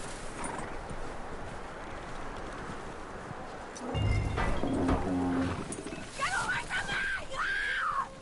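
A horse whinnies and neighs loudly near the end in Red Dead Redemption 2, after a stretch of outdoor ambience, with a brief voice and hoof movement just before the neigh.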